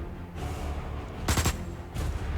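Gunfire in the video game Osiris New Dawn, two sharp bursts of shots, the first the loudest and the second briefer, over a low steady game background.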